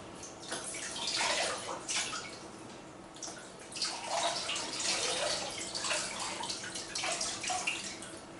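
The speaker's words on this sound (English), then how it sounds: "I'll get some water down through all these other, rinse water down through all these others that I've done." Rinse water running and splashing through the tubing of a baritone or tuba during cleaning, a steady rushing flow that swells and eases in several waves, close and fairly loud with no talking.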